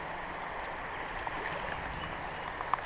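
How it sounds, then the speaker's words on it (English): Steady, soft rushing of a creek flowing out from under railroad tracks, with faint gurgles, constant and moderately distant. "Right there is a little creek that comes out right from under the railroad tracks."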